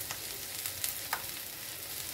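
Onions fry in a pan for bitter gourd curry, a steady close sizzle with a couple of soft stirring clicks, no voices.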